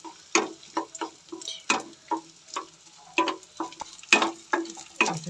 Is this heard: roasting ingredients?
yes